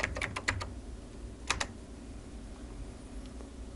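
Computer keys are tapped in short bursts, a quick cluster of clicks, then a pause and a couple more keystrokes, close and clear, with no voices.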